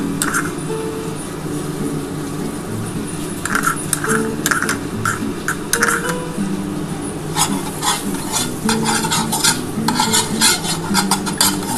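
Butter being spread and rubbed around a non-stick pan before a homemade pizza goes in, a steady scraping and light sizzle running throughout, with brisker strokes in the second half.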